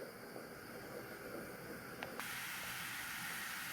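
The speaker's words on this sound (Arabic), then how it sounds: "نحط شوية زيت في الطاسة، وكمان شوية سمنة، وهضيف البصل." Onion frying in a pan of oil and ghee gives a steady soft hiss of sizzling fat, quiet and constant with a faint brief clink partway through and no voices.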